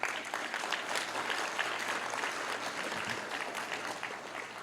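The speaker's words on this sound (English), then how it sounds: "Big round of applause for yourselves." An audience at a memorial service claps steadily and fairly loudly, with a dense, even patter of many hands that holds throughout and has no talking over it.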